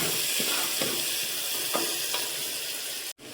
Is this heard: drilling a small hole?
no